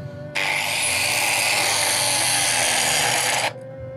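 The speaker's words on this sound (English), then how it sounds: "I have to grind the start always right here." An angle grinder works steadily on the weld start of an 8-inch steel pipe pull head. A loud, continuous high whine starts abruptly, holds for about three seconds and then cuts off sharply.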